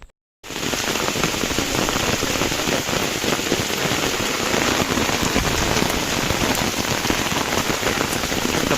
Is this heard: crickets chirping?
no